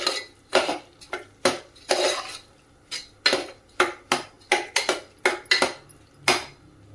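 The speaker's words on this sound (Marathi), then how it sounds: "आता सर्व साहित्य व्यवस्थित मिक्स करायचंय" Cooked dal and chopped jaggery being mixed in a pot for puran poli, with repeated sharp metal spoon strikes and scrapes against the pot in an irregular rhythm, close and clear, with no talking.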